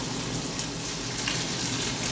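Steady, dense sizzling of food frying in hot oil, continuous and close, with no voices.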